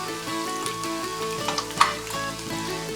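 Eggs fry crispy underneath in a hot pan, giving a continuous close sizzle dotted with small pops and spits, with a steady background hum and no talking.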